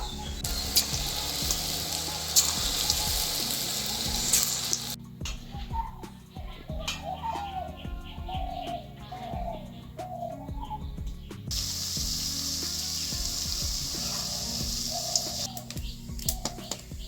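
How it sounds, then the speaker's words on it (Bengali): Peanut pakoras frying in hot oil give a steady, crackling sizzle through most of the stretch, with a quieter spell in the middle where soft background chirps and light clicks come through. "প্রথমে একবার দিয়ে ভেজে তুলে নিয়েছি, আরও একবার দিচ্ছি।"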